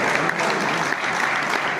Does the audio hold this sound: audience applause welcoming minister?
yes